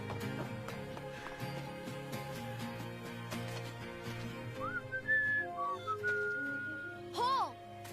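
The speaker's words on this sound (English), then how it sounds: "I heard your whistle." Short whistled notes rise and bend over a busy music bed, standing out clearly in the second half of the clip.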